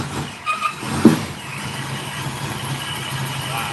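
A Ford Mustang engine runs nearby, a low rumble with a brief sharp squeal and a rev swell around the middle, then settling into a steady idle.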